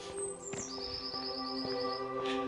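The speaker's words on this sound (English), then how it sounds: "The birds singing." Birds sing in spring in a treed setting: high, clear whistled notes and short chirps ring out repeatedly at moderate distance. A soft steady background hum runs underneath.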